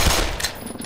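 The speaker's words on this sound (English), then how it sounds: "Let's just kill him with a normal pistol." Gunfire in the video game Black Mesa, a pistol shot or short burst landing loud and close at the start, then fading into a rumbling tail over roughly a second.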